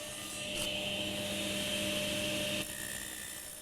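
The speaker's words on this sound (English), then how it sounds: "reposition the miter gauge so it's 1 degree on the other side of 0. And now I can finish off all the tenons" A table saw fitted with a miter gauge set one degree past zero cuts tenons on cabinet stiles, giving a steady loud whine through the cut that drops in pitch and level near the end as the blade runs on.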